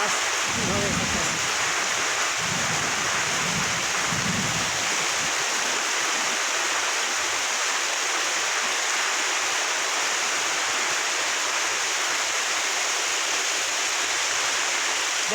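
Someone talks over heavy storm rain at a village house during the first few seconds, then the steady, loud rush of falling water continues alone.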